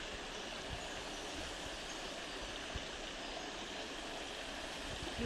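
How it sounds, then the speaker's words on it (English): Forest stream flowing steadily beside yew trees, a continuous broadband rush of water holding even and close throughout, with no voices. "The flow of the sounds of the water."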